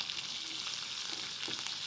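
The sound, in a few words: curry leaves crackling in hot oil with mustard and cumin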